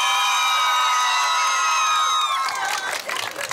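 Audience at an outdoor karaoke contest in a town square cheers for a finalist, a sustained roar of shouts and whoops that turns into bursts of clapping and applause near the end.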